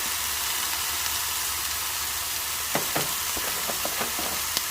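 Mixed vegetables and shrimp stir-frying in a pan, a steady loud sizzle and hiss with intermittent clinks and scrapes of the utensil toward the end.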